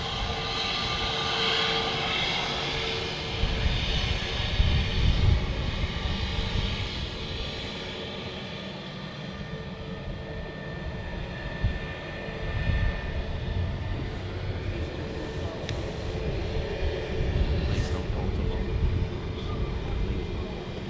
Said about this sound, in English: Norwegian, the red nose Boeing. There we go.